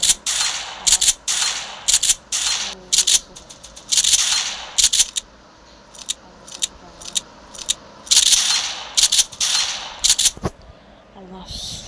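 Bursts of gunfire in GTA Online, sharp cracking shots in rapid clusters and short volleys separated by brief gaps, loud and close, with a person talking intermittently in between.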